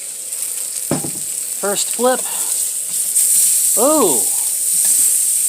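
Chicken sizzles and crackles loudly on a Coleman 4 in 1 portable grill, a steady close frying hiss with a few stirring scrapes, while someone speaks briefly over it.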